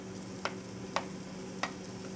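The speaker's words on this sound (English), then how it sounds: "waiting for our oil to heat up here, and I can add my onions" Chopped onions frying in hot oil in a pan, a quiet steady sizzle with three faint clicks of stirring spaced through it, no talking.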